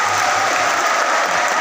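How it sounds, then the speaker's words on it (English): Sustained applause from a graduation audience at Lourdes National High School honoring the graduates' teachers, a dense, steady clapping that fills the whole moment without pause. "your teachers deserve a big round of applause too"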